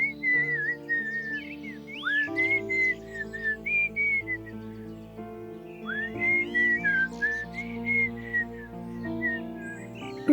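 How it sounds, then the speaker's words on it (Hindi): A man whistles a tune alone in a quiet setting, a clear melodic line of several gliding phrases with short pauses, steady and close by. "मैंने पहली बार तुम्हें सीटी बजाते हुए देखा है।"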